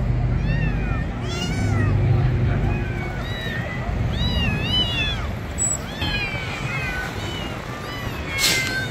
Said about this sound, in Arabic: قطط صغار جميلة